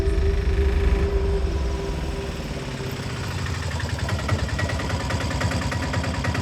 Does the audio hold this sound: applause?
no